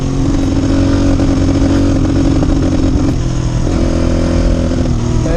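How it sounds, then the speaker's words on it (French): A dirt bike engine with a fouled carburetor runs loud and close, its note stumbling and shifting unevenly as it misfires, with rattling clatter throughout. "je vais vous mettre un extrait de ma moto qui a le carburant encrassé et vous allez vous rendre compte de tous les ratés"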